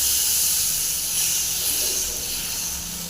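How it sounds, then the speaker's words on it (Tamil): Dosa batter of ragi, wheat and rice flour sizzles on a hot pan, a steady bright hiss close by with no talking. "லாஸ்ட்டாக ஒரு தோசை ஊற்றிடலாம்"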